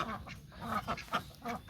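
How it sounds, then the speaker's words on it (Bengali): Domestic ducks quack in short rapid bursts as they are let out of their pen, several birds calling close by in an uneven chattering rhythm. "দেখেন মাশাআল্লাহ, হাঁসগুলো ছেড়ে দিচ্ছি। দেখেন কিভাবে হাঁসগুলো চলে আসে।"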